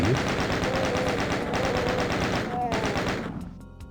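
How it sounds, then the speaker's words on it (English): A chaingunner enemy in DOOM Zero firing a long rapid burst, loud, close and continuous, with the fast even rattle of shots cutting off near the end. "there's another chain gunner across the way here that we can see"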